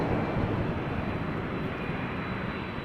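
A plane takes off from runway 05 at Toronto Pearson airport, a loud, steady roar of engines filling the air throughout with no talk.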